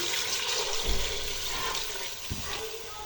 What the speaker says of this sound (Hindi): इसके साथ ही इसमें मैं ऐड करूँगी 4 से 5 गिलास पानी